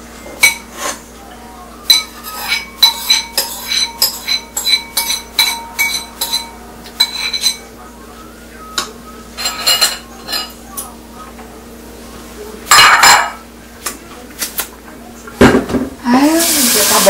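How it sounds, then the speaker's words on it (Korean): A spoon scrapes and clinks against a metal pot while bibimbap is mixed, with a series of sharp, uneven metallic knocks and clatters close by, and a louder rattle near the end. "냄비에다가 비벼 먹어야지."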